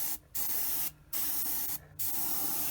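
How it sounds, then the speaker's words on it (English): Steady broadband hiss of CO2-propelled paint spraying in three long bursts separated by brief pauses, close and fairly loud, with no motor or compressor noise. "Just the hiss of CO2 propelling paint."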